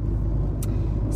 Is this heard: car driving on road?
yes